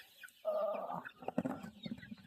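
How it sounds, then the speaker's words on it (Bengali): Chickens on a Sonali chicken farm cluck and squawk in a noisy, continuous burst, restless with their feed and water run out, the flock close and loud throughout. "তো প্রচুর উৎপাত মুরগির।"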